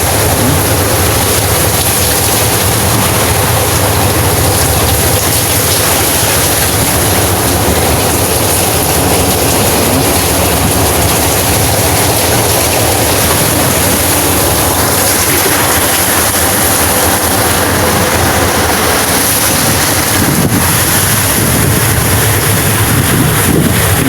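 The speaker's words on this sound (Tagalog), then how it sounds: "Inandar na yung makina namin." A boat engine runs out on open water in strong wind and waves, its low steady drone nearly buried under a loud, constant roar of wind buffeting the microphone, with no talking.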